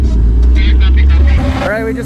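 A borrowed drift car's engine roars loudly and steadily throughout a qualifying run at an Illest Philippines drifting event, with a voice speaking over the engine noise.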